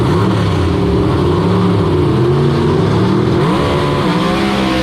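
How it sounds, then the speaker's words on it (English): Loud, continuous roar of gasser drag race cars launching at KilKare Dragway in Xenia, Ohio, engines revving up with rising pitch as they pull away, dense and close throughout without talk. "Maybe a slight advantage for Jonas off the starting line, but Ben Christopher makes it up"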